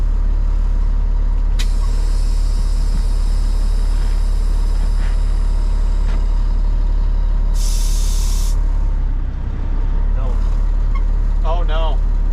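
A cabover truck with a 13-speed shifter has a stuck brake that breaks loose. A loud engine drone runs throughout, with a sharp hiss of air release and brief squeals near the end.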